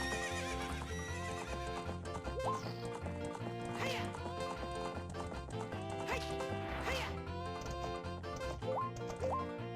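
Horse in the video game The Legend of Zelda: Ocarina of Time, repeated whinnies and rhythmic galloping hoofbeats set against the game's background music, with faint talk underneath.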